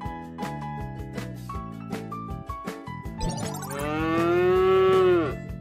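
A cow moos in one long, loud, drawn-out call with falling pitch, preceded by a plinking, bell-like musical pattern with no talk.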